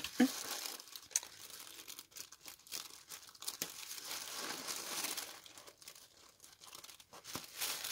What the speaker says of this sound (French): Pas trop endommager le papier de soie.